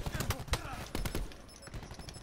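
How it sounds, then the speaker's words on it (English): Rapid bursts of video game gunfire in a Control Frequency match ring out in quick clusters, loudest in the first second, then thin out into quieter scattered shots. "He's shooting."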